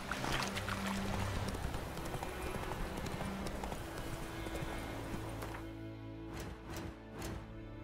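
Horse hooves clip-clopping in Witcher 3, a steady walking rhythm of hoofbeats over a busy ambient bed, then a few sharper, louder hoof strikes near the end.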